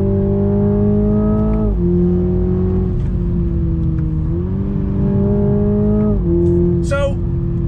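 A 2021 Toyota Supra 2.0 four-cylinder turbo accelerates hard and loud from inside the cabin, with its engine note climbing steadily, dropping briefly at each gear shift, then climbing again across several gears.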